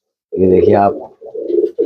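Old-breed tumbler pigeon cooing close by in a single deep, throaty, warbling call, followed by a shorter low coo, while someone speaks briefly over it.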